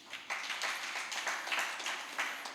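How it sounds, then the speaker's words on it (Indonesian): A church congregation at a worship service breaks into applause, steady clapping from many hands rising and swelling in uneven waves with no voices over it. "Beri tepuk tangan yang beriman."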